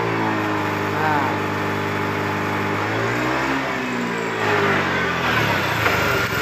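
A fuel-injected Honda Beat scooter engine revs under throttle, its pitch rising and dipping unevenly as it stumbles and bogs, heard close with someone talking over it.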